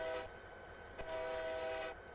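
A locomotive horn sounds in a train simulator game, with one short blast followed by a longer sustained tone, loud and close.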